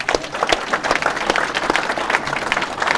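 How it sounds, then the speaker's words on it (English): An audience at a startup event applauds Jason Calacanis, dense steady clapping from a crowd with individual sharp claps standing out throughout. "Hey, let's give Jason another round of applause."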